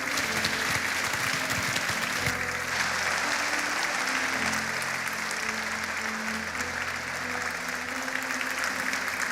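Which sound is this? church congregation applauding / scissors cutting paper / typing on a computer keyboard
church congregation applauding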